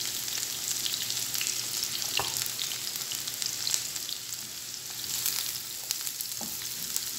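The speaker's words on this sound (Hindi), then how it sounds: "तो सबसे पहले मैं इसमें प्याज डाल रही हूँ।" Finely chopped onions sizzling in hot oil in a pan, a steady bright crackle with occasional stirring clicks, close and continuous with no talk.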